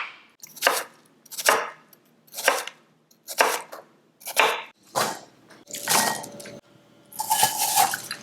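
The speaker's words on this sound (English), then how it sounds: "I'm going to chop them up into little cubes." Knife chopping apples into little cubes on a cutting board, eight evenly spaced sharp chops with a steady rhythm, close and clear with no talking.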